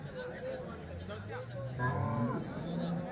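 HF and Jersey cows lined up at a weekly cattle market in Punganur, one lowing in a long, close moo, with a faint cowbell and distant chatter behind.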